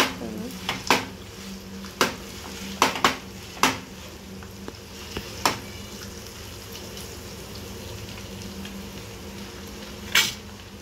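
Egg-dipped bread slices frying in a pan, with several sharp clinks and scrapes of a spatula against the pan over a soft, steady sizzle.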